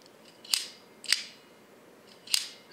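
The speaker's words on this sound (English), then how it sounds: "And this was your shutter release." Three sharp, crisp clicks from the shutter release of an old Bakelite box camera with a single shutter speed, spaced irregularly and heard close up with no talking.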